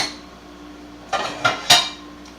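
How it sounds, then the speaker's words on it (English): A small cooking pan is lifted out and handled, giving three separate metallic clanks and knocks about a quarter-second apart against a quiet kitchen background, with no talking. "the last thing that I'm going to get out, you guys, is my little tiny pan"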